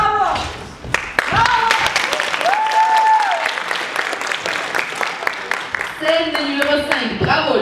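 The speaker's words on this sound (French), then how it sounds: "Applaudissements." Audience applause following a scene at an international youth theatre festival, dense and sustained over the whole stretch, with voices and cheers breaking through on top of the clapping.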